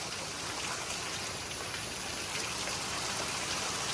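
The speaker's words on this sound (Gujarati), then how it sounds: "વરસાદ આજે જળબંબાકાર છે" Heavy rain pours down steadily, a dense, constant hiss of water drumming on surfaces with no pauses or voices.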